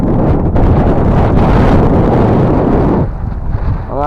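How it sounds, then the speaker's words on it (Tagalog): Strong wind from a low-pressure weather system buffets the microphone with a loud, steady roar that eases slightly near the end. "Lumakas ulit ang hangin"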